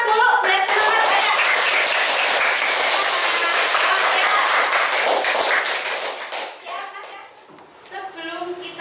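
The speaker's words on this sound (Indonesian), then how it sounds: "yang semangat tepuk tangan dulu." A class of children claps hands together in a sustained burst of dense, close clapping for about seven seconds, then it trails off into a few scattered claps and some voices.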